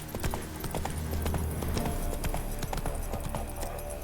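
Horse hooves clopping in The Witcher 3, a steady, close, fairly loud rhythm of hoof strikes with some faint speech in the background.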